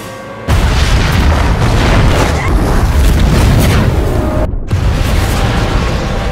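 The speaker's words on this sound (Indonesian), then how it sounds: "tiba-tiba rumah itu meledak" A loud, rumbling boom that roars on for several seconds, broken by a brief cut-out before the blast noise resumes.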